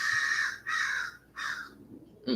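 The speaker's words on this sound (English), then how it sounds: "crow." Crow cawing nearby, three loud harsh caws in a steady rhythm followed by a shorter fourth call, heard alone.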